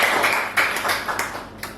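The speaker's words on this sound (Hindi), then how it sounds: "तालियां तो बजा दो" A small group at a yoga class claps together, a handful of loose, uneven claps rising and falling over a couple of seconds, close and moderately loud.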